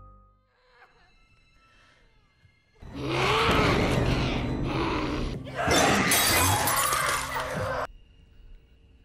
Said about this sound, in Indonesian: mengamuk hingga memecahkan banyak barang di dapur